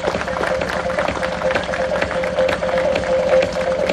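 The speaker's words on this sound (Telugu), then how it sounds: "అందరు కొంచెం క్లాప్స్ కొట్టండి." An audience claps at a venture launch event at Mallapur near Yadadri, a dense, steady round of applause from a crowd throughout.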